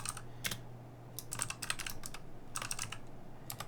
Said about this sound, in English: Why am I typing in all caps?